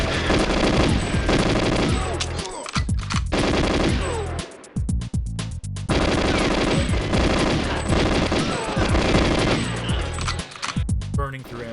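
Rapid automatic gunfire in GoldenEye 007, dense bursts of machine-gun shots filling the room with brief gaps between volleys, loud and close, with game effects layered in.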